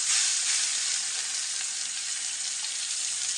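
Tomato and coriander sautéing in a pan for egg bhurji, giving a loud, continuous close-up sizzle and hiss with soft stirring underneath and no talking.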